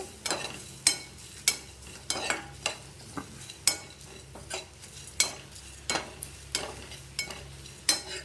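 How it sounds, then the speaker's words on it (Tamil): Grated coconut with black pepper, cumin and coriander seeds dry-roasting in a pan, stirred in steady strokes roughly every half second; each scrape rises over a soft, continuous sizzle, close and moderately loud, with no talking. "போட்டு இதையும் கொஞ்சம் வறுத்துக்கலாம்."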